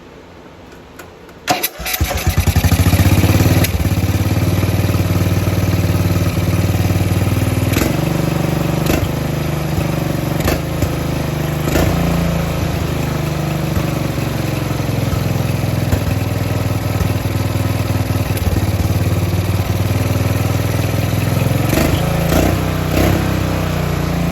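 A mud mower's engine coughs to life after a carburetor adjustment and settles into a loud, steady idle that runs slightly high, with occasional sharp pops breaking through the continuous close drone.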